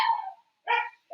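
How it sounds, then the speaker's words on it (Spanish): Dogs outside bark and yip in short, bright bursts, two clear calls separated by a pause and a third starting at the end, fairly quiet and without any talk. "una disculpita si escuchan a mis perros, pero ya están chillando afuera"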